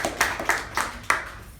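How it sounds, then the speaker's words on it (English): A Toastmasters club meeting: a few sharp hand claps in an irregular, sparse rhythm, close and moderately loud with no talk over them, like a small audience beginning a round of applause. "Please give him a good round of applause."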